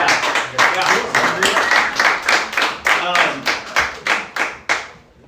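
An indoor audience at a church gathering claps steadily, about a dozen distinct sharp claps at a brisk even rhythm, loud and close, with voices mixed in and the claps thinning out at the end.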